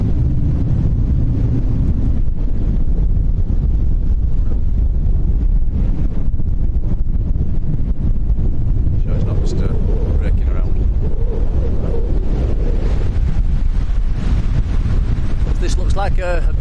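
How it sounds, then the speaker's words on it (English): Strong, gusting wind roars into the microphone at Lanzarote Airport in the Canary Islands, loud and continuous, as someone talks over it. "The wind's absolutely, it's doubled in the last 10 minutes"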